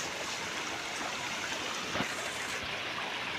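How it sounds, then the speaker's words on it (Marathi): A mountain stream runs downhill with a steady close rushing and babbling flow, with a couple of faint knocks partway through and no voices. "पाणी कसं वाहत येते बघा खाली"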